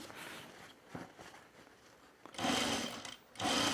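A sewing machine stitches the fabric of a pullover camp shirt with a popover placket, a quiet whirring with soft knocks at first, then two louder close bursts of rapid stitching near the end.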